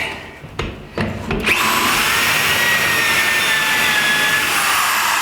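A few brief start-stop bursts, then a power drill with a hole saw whines steadily and loudly as it cuts through a cargo container floor, close up with no talking.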